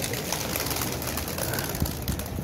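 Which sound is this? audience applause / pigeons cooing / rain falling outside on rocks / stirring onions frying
pigeons cooing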